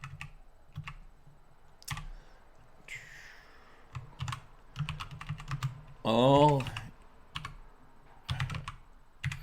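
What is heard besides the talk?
typing on a computer keyboard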